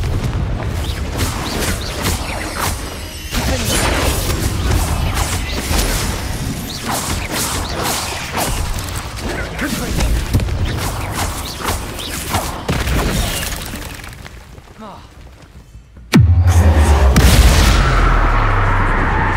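Bombarda spell in Hogwarts Legacy on PS5 erupts amid a long stretch of rumbling crashes and booms, then a sharp loud blast near the end followed by heavy sustained roaring; no voices.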